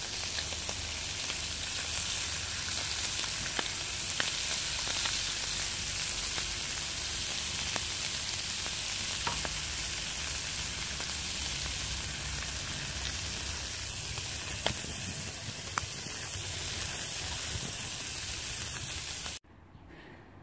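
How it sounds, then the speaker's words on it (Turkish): Steady, loud sizzling of liver frying in a hot pan, continuous throughout with small pops, then it cuts off abruptly. "Ciğer kavuracağım."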